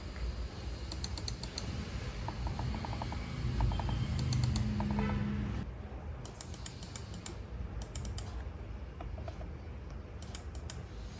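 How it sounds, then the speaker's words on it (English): Quiet clicking of a Logitech MX Master 3S mouse with its soft-click buttons, a series of faint, muted clicks in small bursts heard close up over a low background hum. "So the MX Master 3S, it has something called soft click."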